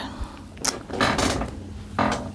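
A sewing machine back stitching the start of a seam on a bowler bag whirs in short mechanical bursts, forward and back, close and moderately loud with gaps between runs.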